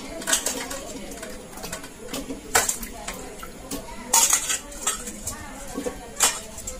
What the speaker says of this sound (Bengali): এবার আমি এইগুলো প্রেসারে তুলে দেব।